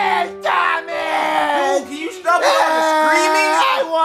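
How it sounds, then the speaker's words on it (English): Child screaming, a long sustained high-pitched wail with pitch bends and brief breaks, loud and close, mixed with voices. "if you don't stop screaming, I'm gonna leave"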